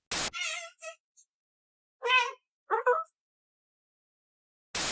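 A cat meows several times in short, close, clear bursts separated by silence, with a few sharp clicks at the start and end.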